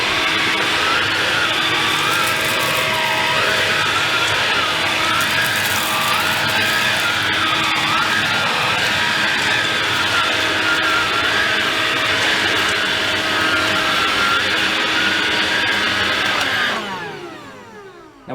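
A Bosch BBH3251GB cordless vacuum cleaner runs on maximum suction with a loud, steady, high whirring drone close by, then winds down and cuts off near the end.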